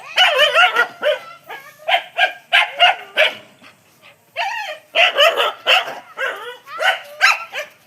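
A dog barks and yips in quick clustered bursts with short pauses between, loud and close, alone without talking.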